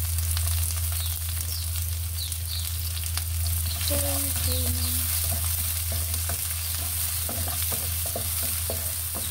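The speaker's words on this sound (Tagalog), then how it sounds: "Bawang and then sunod na natin yung sibuyas." Garlic and onion fry in a pan with a steady, loud sizzle throughout, a few brief utensil clinks partway through and no talk.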